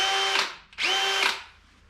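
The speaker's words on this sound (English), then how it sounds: "Just going to drill out the holes through those double plates to 10mm" A power drill drills out holes to 10mm through double steel seat-mounting plates in a 1951 Chevrolet Fleetline, in two loud whining bursts of cutting that rise and fade, separated by a brief pause.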